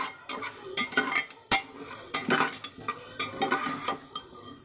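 Onions soften in a pan while a spatula stirs and scrapes them, giving a light sizzle punctuated by repeated scraping strokes and occasional metallic clinks against the pan. The sound is close, with no voices.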